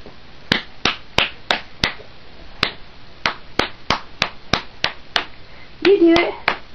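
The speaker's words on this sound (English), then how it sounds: "Let's clap." Hand clapping, a string of sharp, close single claps at an uneven, loosely spaced rhythm, around fifteen in all, with a brief vocal sound near the end.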